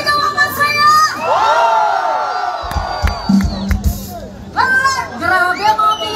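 A concert crowd at a live band show in Jeddah, Saudi Arabia shouts and cheers loudly, swelling into a sustained roar, dipping briefly, then rising again in renewed whoops.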